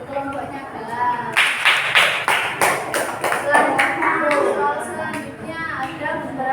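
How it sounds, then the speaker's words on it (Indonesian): A classroom group claps in rapid, uneven applause lasting a few seconds, loud and close, with children's chatter and voices mixed in. "Tepuk tangan"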